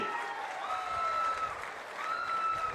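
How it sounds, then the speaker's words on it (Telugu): A room full of people claps steadily in a sustained round of applause during a speech by Chief Minister Chandrababu Naidu at a public event in Pamarru, with a tone faintly audible through it. "గట్టిగా చప్పట్లు కొట్టి అభినందించండి."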